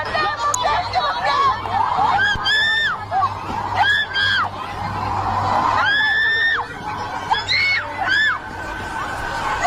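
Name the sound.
people screaming in viral video of creature in river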